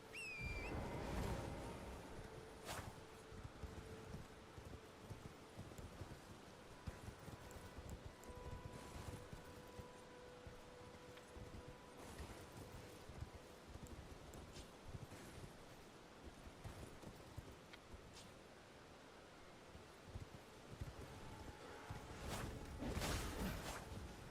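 Rhythmic horse hooves clip-clop and gallop steadily in the video game Elden Ring against a windy, rushing background, with no voices.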